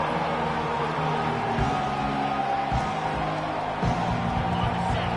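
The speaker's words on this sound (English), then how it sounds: "Decibels rising as the crowd gets behind this defense on 3rd down" A college football stadium crowd at Michigan vs Ole Miss roars in support of the defense on third down, a dense, sustained wash of distant cheering with occasional louder swells.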